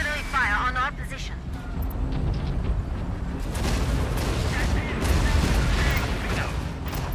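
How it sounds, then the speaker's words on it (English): Heavy artillery barrages rumble and boom continuously in Tom Clancy's EndWar, a dense low roar of explosions with radio-style voices speaking over it throughout. "Artillery fire on our position"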